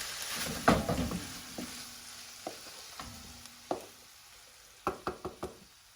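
San Choy Bow served out of a hot pan with a spoon, giving a soft background sizzle with several distinct spoon scrapes and knocks against the pan, a cluster of sharper taps near the end, and no talking.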